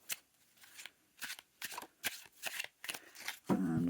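A tarot card deck being shuffled by hand, with a run of quick, crisp riffling bursts in an irregular rhythm, close and fairly quiet, ending with a fuller rustle.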